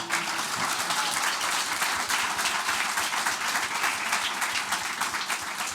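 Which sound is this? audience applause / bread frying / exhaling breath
audience applause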